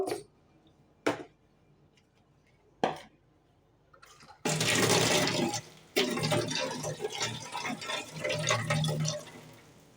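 Dishes washed by hand in a home kitchen, with a few scattered clinks and splashes at first, then a tap running steadily in a close, fairly loud stream of water.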